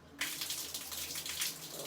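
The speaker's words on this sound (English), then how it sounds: "This is a typical shower in Central America and South America. No hot water." Cold-water shower in Central America or South America running steadily, a close, continuous hiss and patter of falling water that starts abruptly after a brief moment of quiet and carries on without a break.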